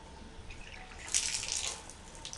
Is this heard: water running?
yes